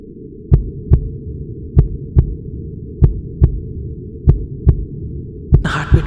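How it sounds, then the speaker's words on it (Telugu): A slow, steady heartbeat thumps over a low hum, about ten deep beats falling in lub-dub pairs, ending with a short burst of rustling noise. "నా హార్ట్ బీట్ వినిపిస్తుందా?"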